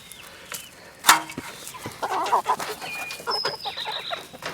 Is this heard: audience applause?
no